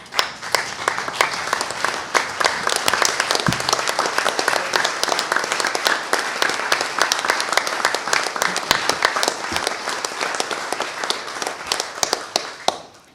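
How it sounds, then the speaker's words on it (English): Standing ovation at a town Board of Aldermen meeting, honoring an outgoing alderman: steady, dense clapping fills a room throughout, with a few sharper isolated claps standing out near and loud. "I would like to give a standing ovation to our outgoing alderman"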